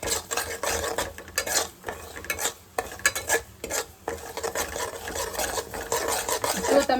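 Semolina sheera being made as prasad is stirred in a pot on a gas stove, with continuous close scraping and rasping strokes of the spoon against the metal in an uneven rhythm, alongside a faint sizzle.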